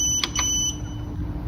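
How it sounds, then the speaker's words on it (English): A Growatt solar inverter's buzzer gives a few short, sharp electronic beeps in quick succession. A steady tone and low hum continue underneath, with no talking. "all these annoying buzzers you've been hearing"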